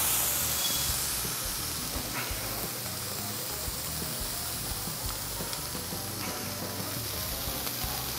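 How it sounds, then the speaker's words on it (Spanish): Mojarra fish searing in a very hot frying pan gives a continuous, dense hiss and sizzle, close and steady for several seconds with no voices. "la llevamos a un sartén bien caliente para sellarla, para dorarla."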